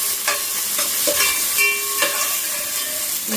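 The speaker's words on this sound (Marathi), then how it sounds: "तो चांगला भाजून घेऊया, परतून घेऊया." Onion sautés in a pan for masale bhat, a continuous close sizzle broken by several stirring scrapes and clinks, loud and without talk.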